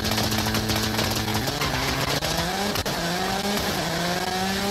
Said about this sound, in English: So yeah, this is basically two-stepping, if you will, with the anti-lag turbo.